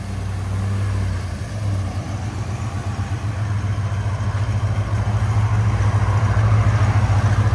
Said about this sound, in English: So this is stock muffler drive off.